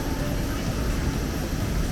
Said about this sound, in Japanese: 今回もエアタヒチヌイの飛行機を利用しました